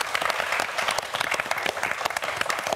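A studio audience on a television quiz show applauds with steady, dense clapping that fills the whole moment without a break.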